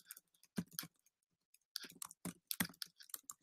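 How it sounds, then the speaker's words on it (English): Computer keyboard typing: bursts of sharp, quick clicking keystrokes in irregular clusters, close and fairly faint, separated by short pauses, with no talking. "I'm just typing it in here."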